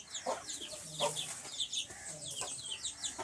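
A hen and a rooster clucking on a farm, repeated soft, fairly close clucks and short calls in an irregular rhythm, with faint background noise and no talking.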